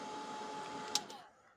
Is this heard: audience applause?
no